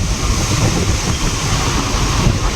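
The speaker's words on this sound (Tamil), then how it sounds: "ஏய் ஃபால்ஸோட சவுண்டு கேட்குது காய்ஸ்." A waterfall in Munnar rushes at full force, giving a dense, steady roar that holds evenly from start to finish with no voices over it.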